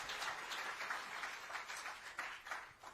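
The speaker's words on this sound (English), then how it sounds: "You can clap a bit louder." Faint applause from an audience at a panel discussion at the Western Ghats Lit Fest, soft and continuous for a few seconds, heard at a distance.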